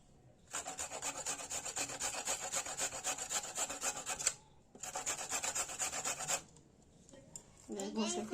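Carrot and cabbage are grated by hand for vegetable momo filling, making fast, rhythmic rasping strokes in two long close bursts with a brief pause between them. A short, faint sound follows at the end.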